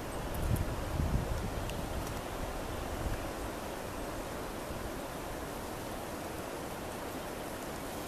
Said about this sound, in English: Okay, there's some wind.